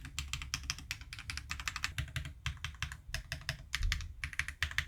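Rapid, steady typing on a mechanical keyboard fitted with a Bumpon O-ring mod, such as a PLA 60 or Sango board, giving close, even clacks in quick flowing bursts with no talking.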